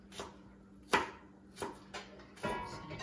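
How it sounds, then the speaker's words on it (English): A knife dices a red onion on a cutting board with sparse, sharp chops, about five distinct close knocks at irregular intervals against a quiet background. "So I'm going to dice up this beautiful red onion."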